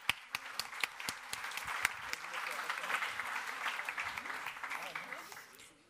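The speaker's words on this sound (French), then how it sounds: "on les applaudit, on les remercie pour leur travail" An audience at an innovation awards evening applauds the jury, starting with a few sharp, close claps that swell into steady applause and then fade, with voices talking over the clapping.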